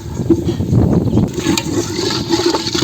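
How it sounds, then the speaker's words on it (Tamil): Goat curry cooking water is poured into a pot of masala up close, a brief rush of splashing and gurgling. "இப்போ கறி வேக வச்ச தண்ணியும் நான் இதில் சேர்த்துக்கிறேன்."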